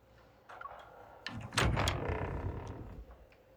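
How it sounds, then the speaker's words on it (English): A door opens in the video game Love and Deepspace, with a few small clicks and handling sounds before a heavier thunk and a sliding, rumbling swell that fades over the following seconds, with no talk. "she shrugs and opens the door."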